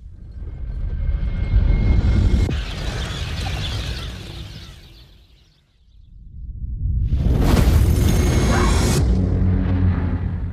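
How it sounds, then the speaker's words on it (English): A deep roaring blast swells and fades, then a second loud rumbling boom with hissing noise builds and holds, heavy and close, with no talking. "Wait, what is the explosion?"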